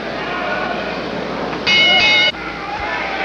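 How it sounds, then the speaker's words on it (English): A boxing ring bell clangs for round two at a live fight in Great Gorge, New Jersey, a short bright ring of under a second heard over crowd noise. "The bell for round two"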